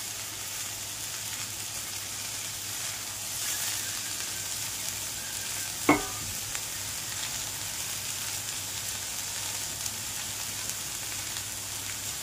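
Chopped data greens cook in a dry wok, a soft, even sizzle and hiss as their water boils off, with one sharp stir or clank midway and no talking.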